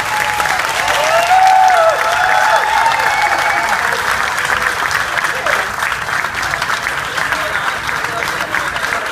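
Sustained applause from an audience at a VegFest talk in Washington, D.C., loud and steady for the whole stretch, with a crowd murmuring faintly underneath.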